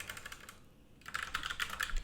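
Fast keystrokes on a computer keyboard while someone types a package URL for a SwiftUI and Firebase app build, a quiet pause at first, then brisk, close, uneven clicking alone with no voices.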